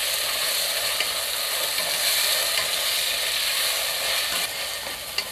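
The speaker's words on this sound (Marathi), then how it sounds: "आता पुन्हा मी 2 मिनिटं चांगलं परतून घेणार आहे" Peas and potatoes sautéing in a pot for dal khichdi, a dense, even hiss of frying throughout with faint scraping underneath, close and fairly loud, no voices.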